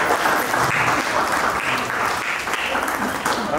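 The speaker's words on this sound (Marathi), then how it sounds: "तेव्हा त्या सगळ्यांसाठी जोरदार टाळ्या व्हायला हव्या" An audience at a music evening claps loudly and steadily, a dense, continuous wash of applause from a crowd, with a voice faintly underneath.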